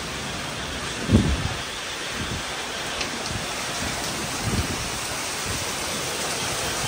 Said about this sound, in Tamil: மழையும் பயங்கரமாக பெய்யுது